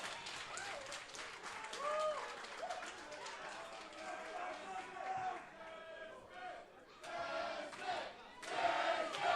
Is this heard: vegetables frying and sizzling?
no